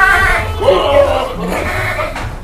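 A Boer goat bleats with a wavering, nasal cry close by at a livestock market in Central Java, its call rising and falling over about two seconds amid background chatter.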